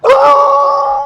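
A leashed dog reacting to another dog on a walk lets out a loud, close, sustained howling whine that starts with a sharp bark-like onset and holds steady for about a second, with no talk.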